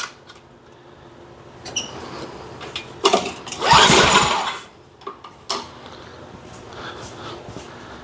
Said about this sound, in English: This will tell us if the motor will run